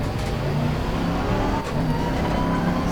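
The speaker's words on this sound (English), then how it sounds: "big rumbly V8 in front of us" A Bentley Continental GT3 race car's deep, rumbling V8 engine in a racing simulator runs loud and steady throughout, with a slight dip in revs partway through before it picks back up.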